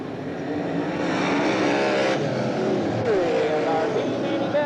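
Sprint cars roaring around a dirt track at the start of a 1990 Gold Cup Race of Champions, a dense, loud engine wash with rising and falling whines as cars pass, under an announcer's voice.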